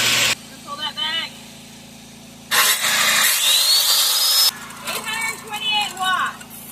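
A power tool run from an off-grid power station roars for about two seconds, its whine rising in pitch as it spins up, then cuts off. Talk comes before and after.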